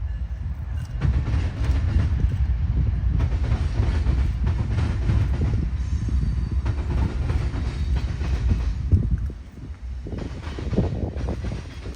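Freight train rolling past on a railway line, a loud continuous rumble with clickety-clack of wagons over rail joints and wind buffeting the microphone, easing briefly near the end.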